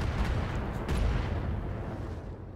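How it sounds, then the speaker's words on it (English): A missile turret fires in the BattleTech mech game, a loud burst of launches with a booming rumble that swells near the middle and then thins out into a fading tail. "that's a missile turret"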